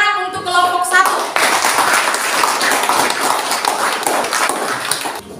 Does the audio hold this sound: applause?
yes